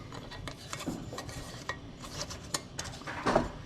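A metal ring clinks and scrapes against a glass canning jar as it is fitted over the lid for home-canned dill pickles, with several sharp close-up taps and clatters and no talking.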